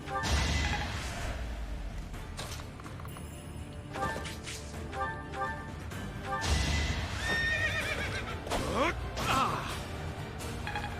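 A horse neighs in the video game Fire Emblem Three Houses, whinnying loudly over clip-clopping hooves, whooshes and battle clatter, with game music running steadily throughout.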